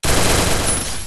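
A rapid burst of gunfire from a mobile battle-royale shooter game, loud, dense and close, lasting about a second with no voices over it.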